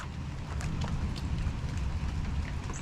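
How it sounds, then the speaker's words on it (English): Light rain beginning outdoors where potted cactus plants are being set out: a faint, steady hiss with scattered soft ticks of drops. No talking is heard. "And it's trying to rain."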